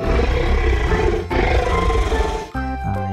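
A loud, sustained T-Rex roar rumbles continuously for a few seconds, then cuts into a brief melodic tone; fits a large creature's growling roar.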